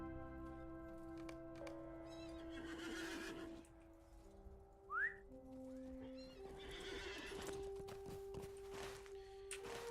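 Horse whinnying in the Lord of the Rings Online game near the Pelennor Fields battle, one sharp rising neigh cutting through game music and hoof clip-clops, fairly loud and close.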